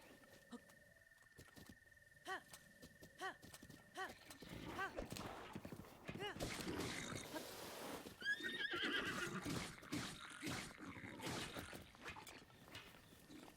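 A horse whinnies loudly after being run over in Breath of the Wild, repeated shrill neighs amid clattering hoofbeats and busy game noise, with some talking underneath.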